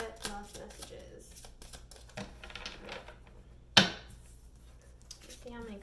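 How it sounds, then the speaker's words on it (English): A tarot deck is shuffled during a card reading, with light riffling and crisp papery clicks under a speaking voice and one sharp loud snap near the middle. "Last shuffle."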